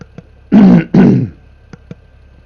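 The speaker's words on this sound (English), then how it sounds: "Pardon me, I gotta clear my throat." A man clears his throat close to the mic during a farming simulator gameplay session, two loud harsh rasping bursts in quick succession followed by a few faint clicks.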